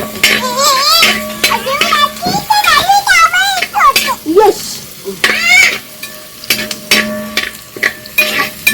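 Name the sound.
onions frying and being stirred for beef roast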